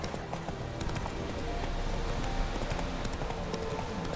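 Roach the horse galloping in The Witcher 3: Wild Hunt, a rapid, steady clip-clop of hooves throughout with faint game ambience underneath.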